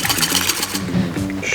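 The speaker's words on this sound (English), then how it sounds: "We should whisk a bit." Eggs whisked in a bowl for breading, a quick close scraping, rattling beat that stays steady and fairly loud throughout the brief moment.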